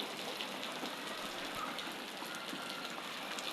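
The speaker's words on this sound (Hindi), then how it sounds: "फुल तेज़ बारिश हो रही है" Heavy rain falls steadily in a wintry downpour, a dense continuous hiss of drops close by, with no pauses and no voices.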